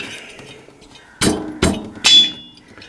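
A metal cylinder head set down onto a Zundapp Combinette 265 engine during reassembly, giving three sharp close metallic clinks and knocks in quick succession after a quiet start.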